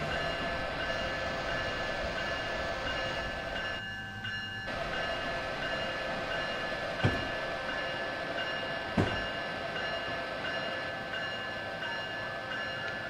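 An Amtrak Northeast Regional train pulls into New London station with a steady, fairly quiet rumble and a couple of brief clanks, with no voices.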